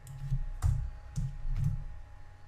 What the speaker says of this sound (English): And for Canada, I'm typing hello A.